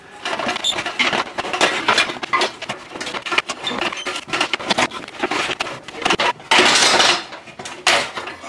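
Hand snips cut through sheet metal trimmed from an English wheel practice piece in a garage, giving a run of sharp, close metallic crunches and scraping clicks with brief pauses, with no talking.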